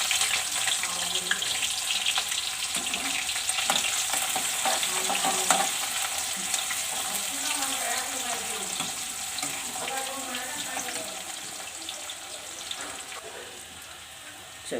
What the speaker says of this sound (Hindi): चलिए अब डाल देते हैं इसमें प्याज।